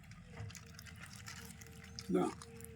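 Sambar is poured onto food at a meal in Madurai, giving soft liquid splashes and a brief louder pour near the end, while people talk over it.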